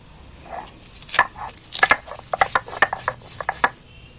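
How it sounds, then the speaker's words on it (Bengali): Raw green chillies crushed on a flat stone grinding slab with a stone roller: close, irregular knocking and crunching strokes that quicken toward the end, with no voices. "প্রথমেই আমি কাঁচা লঙ্কাগুলো বেটে নিচ্ছি।"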